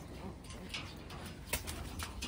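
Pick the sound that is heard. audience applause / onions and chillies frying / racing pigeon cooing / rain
racing pigeon cooing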